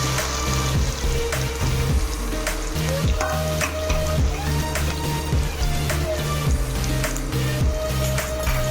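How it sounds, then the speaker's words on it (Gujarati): Chopped onion, cloves and cardamom fry in a pan over low heat for paneer butter masala, a continuous close sizzle broken by frequent scraping and clicking stirs of a spoon. "ધીમે તાપે હલાવી લઈશું"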